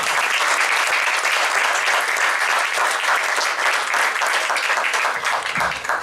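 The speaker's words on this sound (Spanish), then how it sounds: "Lo recibimos con un fuerte aplauso" Audience in a municipal library hall applauding a guest speaker, steady crowded clapping throughout, fairly loud and close, fading slightly at the end.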